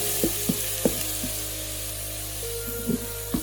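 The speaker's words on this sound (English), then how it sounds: "My oil is hot now, and next I'm going to add in the chopped garlic to it. Give it a quick mix." Chopped garlic sizzles in hot oil as it is mixed, a steady close frying hiss broken by a few soft scraping knocks from the stirring.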